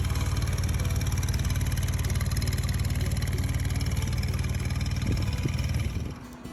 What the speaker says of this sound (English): Pawpaw is teaching Jackson how to start and run the four-wheeler.